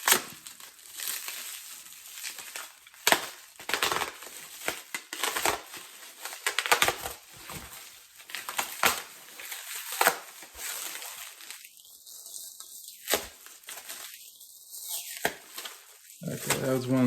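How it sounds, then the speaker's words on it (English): Bubble wrap and packaging are pulled open with close crinkling, rustling and tearing throughout. A person talks at times over the irregular handling. "more packaging to open. Really well packaged. Got bubble wrap all around it."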